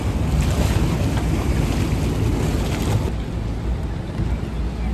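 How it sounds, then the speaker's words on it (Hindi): Private water taxi boat on a Venice canal, heard as a loud continuous wash of water and engine churn mixed with strong wind buffeting the microphone, easing slightly toward the end. "ये यहाँ की प्राइवेट जो टैक्सी बोट है वो इस तरह की होती है"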